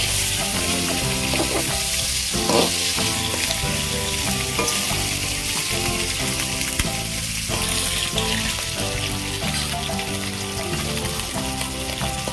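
Snakehead fish pieces frying in hot oil in a pan, a loud, steady, dense sizzle that runs throughout, with a tonal musical background underneath.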